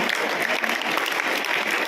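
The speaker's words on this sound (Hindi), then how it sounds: "एक बार इनके लिए जोरदार ताली बजाओ।" A school audience claps loudly and steadily, a dense burst of applause from a crowd gathered for a ceremony at a girls' school.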